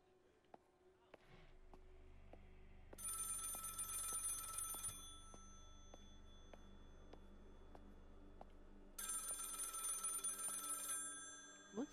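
An old-fashioned telephone bell rings in two long bursts inside the horror video game Maid of Sker, sounding over a low ambient drone with faint ticks and creaks in a quiet room.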